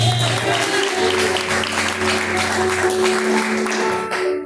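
A church congregation claps in praise at a live worship service, a dense, steady wash of hands running for several seconds over sustained low musical tones.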